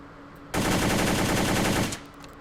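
Automatic fire from a gun in the World of Guns game: one sustained, loud burst of rapid shots lasts about a second and a half, then cuts off abruptly with no talking.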